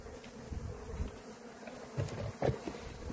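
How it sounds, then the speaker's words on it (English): Forager honey bees buzz around an open hive, a close continuous droning hum that swells as individual bees pass near, with no talk. "these are all forager bees"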